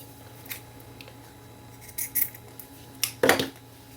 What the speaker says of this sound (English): So let's just pull a little piece up and cut it off and put it on there.